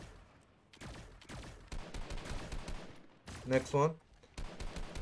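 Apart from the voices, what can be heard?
gunfire in Fortnite, from a video game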